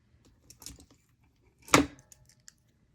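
Copper wire snipped with cutters while making skinny heart earrings: a few small clicks, then one sharp, close snip near the middle, followed by faint ticks in a quiet room.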